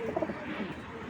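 Giribaj pigeons, khaki and kajli baga pairs, give soft low coos, faint and close, in a quiet, muffled pen.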